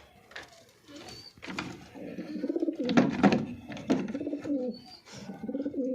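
Male and female pigeons coo in a loft, with repeated soft throaty calls overlapping at close range, rising and falling in bursts and nearly continuous throughout.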